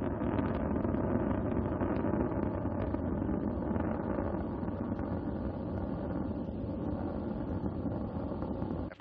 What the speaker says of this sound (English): the Soyuz delivering 102 tons of thrust from its four boosters and single engine